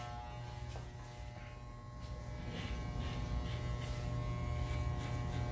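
An electric hair clipper fitted with a 1.5 guard buzzes steadily while cutting hair, a close continuous motor drone with slight variations as it moves through the hair.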